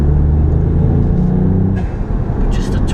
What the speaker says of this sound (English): the noises you get from that induction kit is heavenly